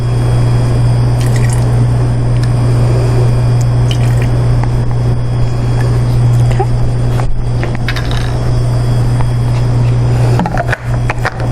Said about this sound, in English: I'm going to just come down here to the DI spigot and rinse these pillows out back into the water.